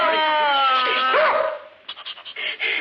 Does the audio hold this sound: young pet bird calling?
no